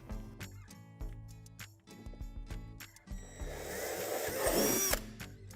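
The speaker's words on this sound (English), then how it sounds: "You're also going to drill out one hole in the middle of the sink." A power drill bores a hole through the middle of a plastic playhouse sink, a rising whirring grind in the second half that follows a series of clicks and handling knocks.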